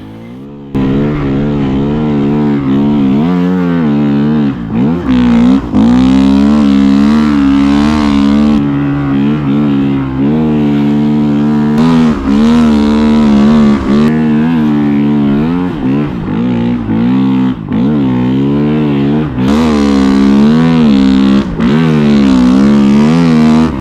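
A 2023 Timbersled Aro3 Gen2 belt-drive snow bike engine revs hard while riding through trees, a loud, close, sustained motor roar with pitch rising and falling as the throttle spools up and eases.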